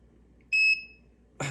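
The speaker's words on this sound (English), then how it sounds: "then the buzzer will sound" A small electronic buzzer on a distance-sensor LED project gives a single clear, steady, high-pitched beep lasting about a quarter second, close and alone, followed by a brief knock.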